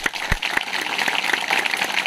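A crowd of villagers at an outdoor village meeting claps loudly and steadily, a dense, even patter of many hands with a few sharper claps standing out, and no talking.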